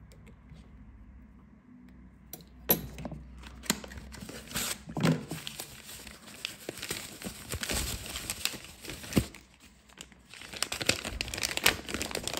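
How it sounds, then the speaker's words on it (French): Adhesive tape residue is peeled and crinkled away while replacing a Samsung Z Flip 3 battery, with close, quiet bursts of crackling and tearing separated by brief pauses. "On enlève les résidus de scotch."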